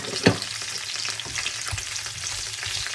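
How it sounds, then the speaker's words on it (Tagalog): Fried beef for Filipino beef steak sizzles in a hot pan while it is stirred, with a steady loud hiss, a sharp clatter from the spoon early on and scraping stirs throughout. "Ilagay na natin yung beef na pinirito natin."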